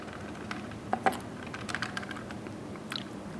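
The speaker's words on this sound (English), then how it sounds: "It's got a little clicky loosey thing in there." A loose rear turn signal on a Juiced Hyper Scorpion e-bike rattles in quick, light, irregular clicks close up, with a few sharper taps in a quiet room.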